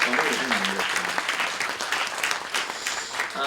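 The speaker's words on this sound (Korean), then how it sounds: "우리 교사분들에게 감사의 박수 한번 드릴까요?" A church congregation gives warm applause of thanks to its Sunday school teachers, a dense, steady wash of clapping hands from a crowd in a hall, with some voices mixed in.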